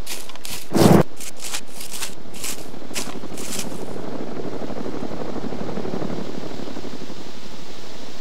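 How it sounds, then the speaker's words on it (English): A helicopter in the military video game Arma gives off a steady, broad whirring rotor and engine drone that fills the scene at moderate level, with a brief louder thump near the start and no talking. "a vehicle. Helicopter."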